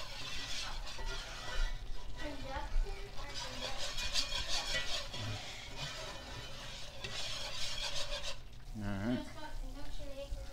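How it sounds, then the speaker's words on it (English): Roux of hot oil and flour being stirred continuously for chicken and sausage gumbo, a steady scraping and soft sizzle running throughout, with a person talking over it. "See that? Just constantly stirring."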